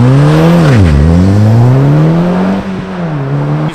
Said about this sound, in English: dumping the clutch, and instantly the car wants to do a burnout. But the Haldex system kicks in and it's like, no, right? So you get a little scratch